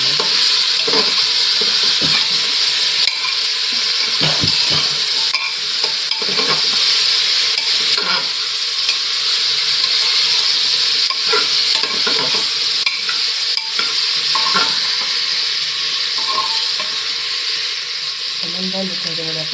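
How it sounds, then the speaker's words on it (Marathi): Cauliflower frying in a pan over low gas, with a steady close sizzle and repeated scraping strokes of a spoon stirring through the pieces, continuing without a break from start to end. "फ्लावर टाकलं की गॅस बारीक करा आणि हलवून घ्या चांगलं."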